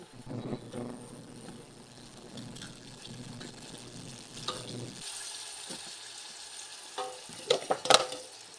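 Boiled vegetables with malunggay and alugbati are stirred in a pot, a soft wet scraping and sloshing close by, with a few sharper clinks of the spoon near the end.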